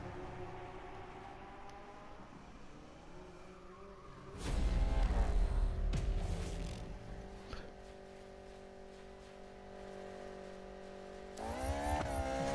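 Ferrari engine in the Need for Speed racing game, a steady mid-level drone with a loud surge of acceleration and tire noise around the middle, then a sustained tonal hum and another rising rev near the end.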